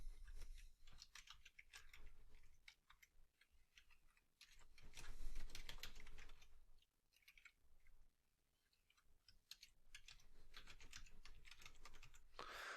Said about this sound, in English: Create a password.